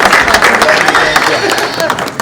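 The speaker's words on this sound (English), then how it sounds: "Can we give her a round of applause?" Loud applause and crowd noise rise in a city council chamber in Plainfield, New Jersey, with voices talking over the clapping for the whole stretch.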